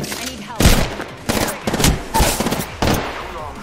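Bursts of video game gunfire, several loud close volleys of rapid shots in quick succession with short gaps between them.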